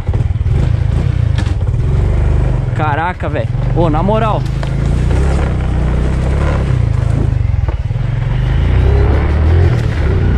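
A motorcycle engine idles with a constant low rumble throughout, while someone speaks briefly over it.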